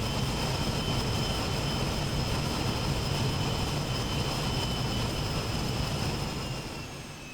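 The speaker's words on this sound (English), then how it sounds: "I love how the spoilers deploy with the reversers" A Learjet's engine roar during landing in Aerofly FS2 holds as a steady loud rush with thrust reversers and spoilers deployed, then fades slightly at the end.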